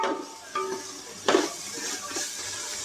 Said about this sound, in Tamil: இந்த இஞ்சி பூண்டு பேஸ்ட்டை வதக்கிக்கோங்க